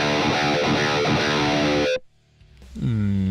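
Heavily distorted metal electric guitar played through a Tube Screamer pedal into a Quad Cortex, a dense chugging riff that cuts off abruptly, then a single sustained chord rings out after a short pause.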